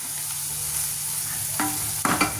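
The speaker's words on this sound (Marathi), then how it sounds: "छान परतून घ्यायचं आहे हे सर्व आता व्यवस्थित. कमी गॅसवर छान असं परतून घ्यायचं आहे." Masala for a pea bhaji, seasoned with Byadgi chilli powder, sautés on low heat under a constant soft sizzle, with two spoon scrapes near the end.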